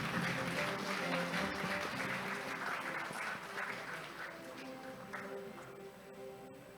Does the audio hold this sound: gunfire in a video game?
no